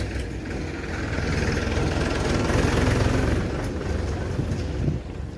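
A tractor engine idles beside a village river, giving a steady, fairly loud low rumble mixed with wind buffeting the microphone. No one speaks.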